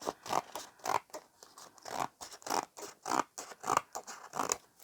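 Scissors snip through paper for a collage in quick repeated cuts, a steady rhythm of close, crisp, rasping bursts with no talking.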